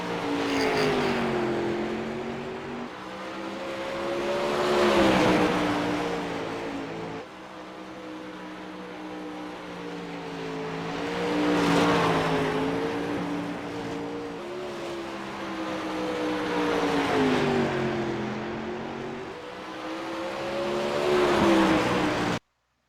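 Pro late model dirt race cars roar around Volusia Speedway on a lap, engines rising and falling in long waves as they accelerate down straights and ease through turns, loud and continuous with no talking.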